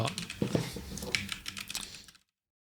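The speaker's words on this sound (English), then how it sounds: "So now if I press the arrow keys, nothing happens." Computer keyboard keys pressed in a rapid, irregular run of clicks and taps, close and fairly quiet, continuing for about two seconds before stopping, with no voice.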